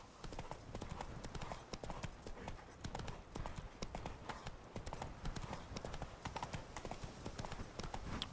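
Roach the horse galloping in The Witcher 3: Blood and Wine, steady rapid hoofbeats in an unbroken rhythm, close and fairly loud over a dense wash of game ambience, with a voice talking now and then.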